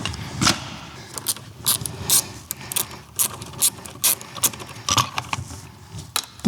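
A ratchet wrench backs out bolts from the plastic cover on a CFMoto motorcycle, producing quick bursts of close metallic clicking separated by short pauses.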